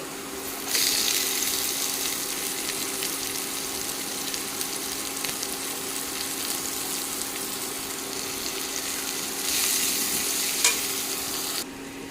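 Chopped onion sizzling steadily in a pan of cumin potatoes, a continuous bright frying hiss with occasional soft stirring scrapes, fairly close and alone.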